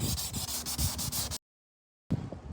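A carbon fiber car spoiler on a Lexus is sanded in quick repeated strokes, a rhythmic close rubbing that breaks off into silence briefly before resuming.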